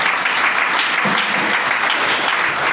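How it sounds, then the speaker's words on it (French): A church congregation applauds steadily at a French-language service as an elder is called forward, with dense, loud, continuous clapping and cheering that holds without a break. "acclamations."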